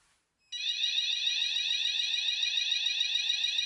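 A Notifier fire alarm system sounds during a weekly test of a hall detector. After a brief silence, a loud, piercing, continuous electronic alarm tone starts abruptly and holds steady with no talk.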